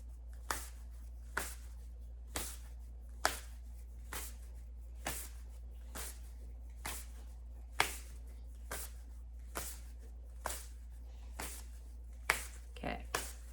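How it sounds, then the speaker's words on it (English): Animal guide cards are shuffled in a quiet room, giving a series of soft, crisp card snaps roughly once per second in a steady rhythm over a faint low hum. "you're going to see me shuffle for the animal guide card for the week"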